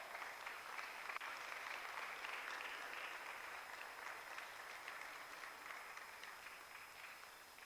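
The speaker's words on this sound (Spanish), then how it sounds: "Dale un aplauso fuerte al Señor." A church congregation claps in sustained, even applause, filling the room with dense clapping at a moderate distance, with no speech over it.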